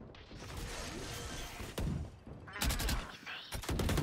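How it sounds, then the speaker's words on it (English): Gunfire in the tactical shooter Valorant on the Fracture map, with rapid bursts of shots and mechanical clatter, loud and dense, crackling in short rattling volleys over continuous game noise. "I just shot at our own person!"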